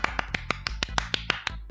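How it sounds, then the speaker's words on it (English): Eleven sharp claps in a quick, even rhythm, close and crisp, with no voices. "Stop making me clap so many times."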